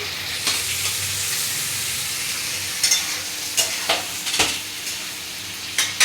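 Potatoes frying in a pan for a pui shak and prawn curry crackle in a steady sizzle, while a spatula stirs them in a run of scraping strokes and knocks that grow more frequent toward the end, with no voices.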